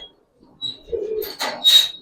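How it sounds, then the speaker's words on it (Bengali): Pigeons in a loft coo in low, soft bursts, joined by a couple of brighter chirps and wing-like rustles near the end; the sounds are close and fairly loud with no talking. "এই কবুতর গুলা দেখেন"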